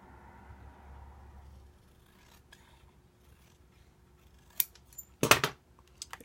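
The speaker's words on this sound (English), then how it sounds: "now here I should trim this paper a little more" Scissors trim a sheet of paper for a storage box craft project, a few quiet snips followed by a sharper burst of close, crisp cuts near the end, with no talking.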